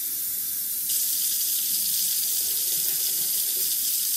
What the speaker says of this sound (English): So I'm actually adding a full can of water.